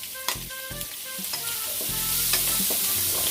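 Ginger sautéing in rendered pork fat for laing, a steady close sizzle with several sharp stirring scrapes and clinks against the pan, growing slightly louder toward the end.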